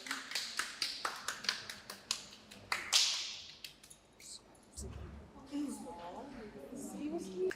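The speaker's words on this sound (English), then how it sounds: "ladies, can we give him a round of applause?" Scattered taps and claps from a small audience applauding a contestant on a dating show, which fade into someone talking.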